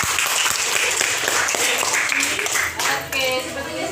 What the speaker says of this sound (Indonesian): tepuk tangan dulu untuk si Saidah